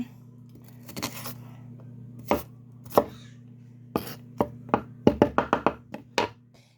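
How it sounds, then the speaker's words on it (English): Onions are chopped on a board, crisp knife strikes at first spaced apart, then a quick burst of several chops, close and clear over a low steady hum. "I'm going to chop some onions up."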